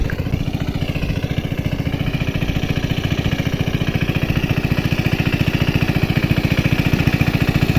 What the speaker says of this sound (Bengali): এরকমভাবে মেশিন চলছে ধানে জল দিচ্ছে